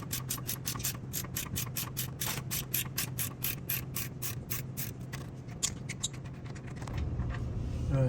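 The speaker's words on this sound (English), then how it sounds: "I'm stuck with using either a ratchet or a ratcheting wrench" Ratchet clicking rapidly as it turns a rear brake caliper bolt on a Toyota Tundra, a steady run of sharp close pawl ticks that slows and changes toward the end.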